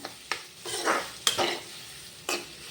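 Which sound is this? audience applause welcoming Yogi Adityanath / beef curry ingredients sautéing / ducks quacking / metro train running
beef curry ingredients sautéing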